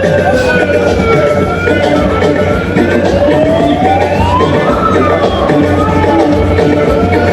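A siren wails with rising and falling pitch over a loud, dense crowd roar of Cameroon supporters in the stadium at Limbe before Cameroon vs Nigeria, continuous throughout.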